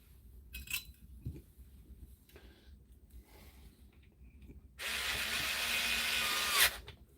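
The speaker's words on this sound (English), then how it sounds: "there's more torque in this draper screwdriver than there is in those wee Parkside ones" Draper power screwdriver running in a steady whirring burst of about two seconds, close and clear, after a stretch of quiet clinks and handling.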